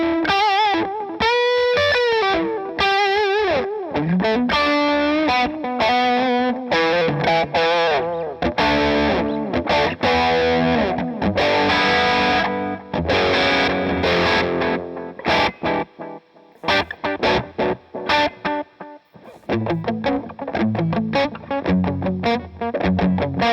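Distorted electric guitar through a VVco Delayrean delay pedal with added reverb, notes smearing and echoing into a washy tail, with a chordal passage and trailing repeats, no talking.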